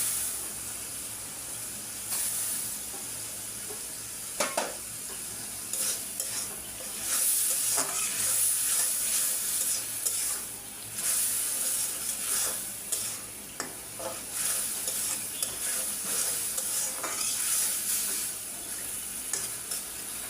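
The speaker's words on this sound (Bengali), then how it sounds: "এখন আমি শুটকি দিয়ে দিলাম।" Dried fish (shutki) sizzles and hisses in a frying pan while being stirred, with steady frying crackle and repeated louder scraping stirs close by.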